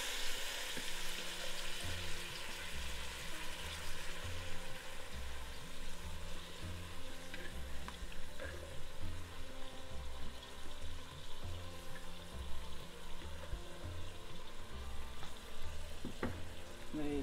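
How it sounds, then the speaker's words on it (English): Red lentils frying with lamb and masala in a pan, a soft continuous sizzle broken by the rhythmic scrape and clatter of stirring, fairly quiet with no voices. "the lentil goes in with the meat and the masala. Give it a stir for a minute or so."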